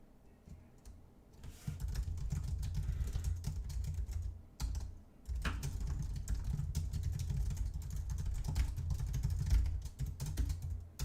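Typing on a computer keyboard while coding for a programming contest, with close, continuous clattering keystrokes in quick bursts and a couple of brief pauses.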